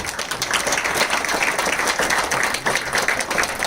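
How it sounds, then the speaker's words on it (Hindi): An audience at a meditation talk claps for Swami ji with dense, continuous applause from many hands, sustained and lively for the whole stretch. "स्वामी जी को जोरदार से तालियां बजाएंगे।"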